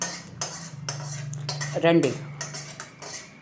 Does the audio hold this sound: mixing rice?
yes